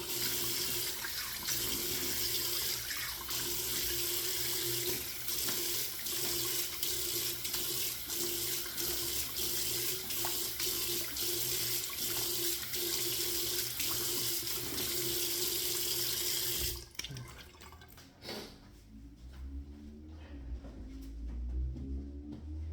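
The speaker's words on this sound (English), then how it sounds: "we rinse this off with cold water." Cold tap water runs steadily and loudly into a sink while a straight razor is rinsed under it, a constant rushing stream that cuts off abruptly near the end, leaving quieter handling sounds.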